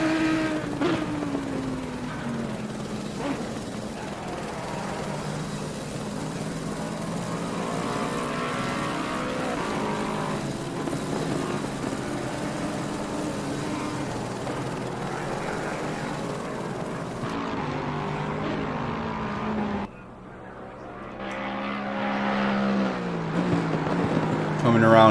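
A race car engine screams down a long straight at Paul Ricard's Mistral Straight, holding a steady high-revving drone before an abrupt shift near the end, with a commentator talking over it.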